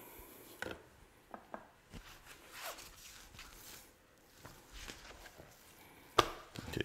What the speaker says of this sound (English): Trim some more of this fat right here. Just keep your knife flat.